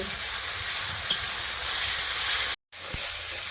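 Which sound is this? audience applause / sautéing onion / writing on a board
sautéing onion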